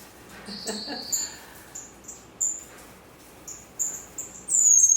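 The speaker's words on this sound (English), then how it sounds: "There's 4 twin spot males all in a row, sitting on their balcony, having a sing-off" Male twinspot finches in an aviary sing from a perch, giving short, thin, high-pitched notes in scattered bursts, fairly faint and alone, with a longer louder trill at the end.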